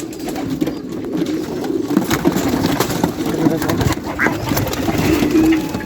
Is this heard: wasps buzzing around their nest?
no